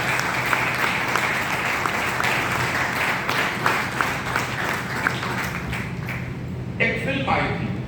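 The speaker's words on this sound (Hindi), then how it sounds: "मैं आप लोगों के लिए जोरदार ताली चाहता हूँ" A crowd at a team meeting gives loud, continuous applause, with voices speaking over the clapping toward the end.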